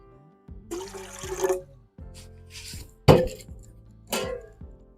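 Water is poured into a pressure cooker to make steam for homemade Lahori chargha, heard as several short, splashing gushes separated by brief pauses, close and moderately loud, with no talking.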